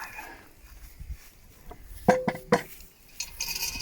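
A metal camp oven lid is handled outdoors, giving a few sharp clanks and scrapes in the middle followed by lighter rattling, close by with no talking.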